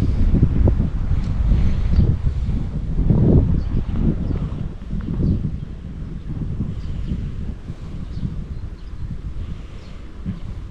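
Steady wind buffeting the microphone on a sunny Sokolsky beach in Lipetsk, a broad low roar with gusts rising and easing throughout, no voices.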